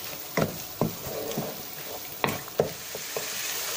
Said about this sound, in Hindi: थोड़ी देर के लिए हम अदरक और लहसुन को भून लेंगे